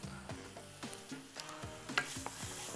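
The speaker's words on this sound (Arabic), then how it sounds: "بعد ما ادي للجمبري تشويحه مع الخلطه ديت" Shrimp sauté in a pan with a spice mixture, a faint sizzle broken by soft stirring scrapes, with quiet tonal music underneath.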